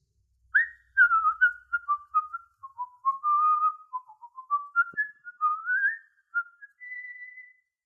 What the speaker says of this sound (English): whistling a merry tune.